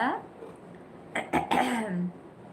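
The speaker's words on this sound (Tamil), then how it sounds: "அப்பா இப்ப சிரிக்கும் போது கொஞ்சம் இருமல் வரலல்ல?" An older man coughs while laughing: several short, sharp coughs in quick succession, close by, followed by a brief voiced sound.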